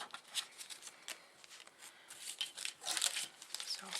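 Plastic shopping bags from a store haul crinkle and rustle as they are handled and cleared away, a close run of irregular crackling bursts that grows busier toward the end.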